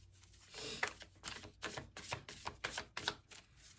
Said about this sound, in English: when you just shuffle until the cards fall out